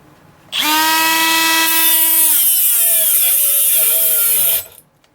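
A Milwaukee M12 FUEL quarter-inch right angle die grinder on a high output 5.0 battery, running alone at a loud high-pitched whine for about four seconds, its pitch dropping and wavering as it is pressed hard into a workpiece toward stalling.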